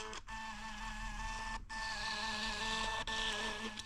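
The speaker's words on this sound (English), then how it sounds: "this Fomamo Bluetooth printer, and I'm just going to print my labels off from this" A Fomamo Bluetooth label printer whirring as it prints labels, a steady high mechanical buzz broken by three brief pauses between labels, close and loud with no voices.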